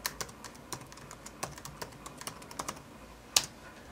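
Someone types an email address and password on a computer keyboard, a quick irregular run of light key clicks, close and fairly soft, with one sharper tap near the end.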